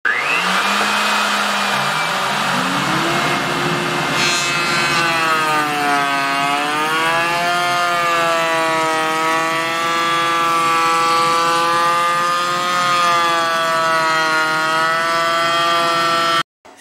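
A power tool with a router-style bit cuts a bevel into wooden crown moulding, a loud continuous high whine whose pitch dips and wavers as it bites into the wood, running unbroken until it stops abruptly.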